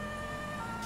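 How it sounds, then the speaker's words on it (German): Police car siren in GTA V, a steady electronic wail with sustained tones, loud and continuous over engine noise, with no talk. "das ist die dritte Sirene, die es doch zum Fahrzeug gibt."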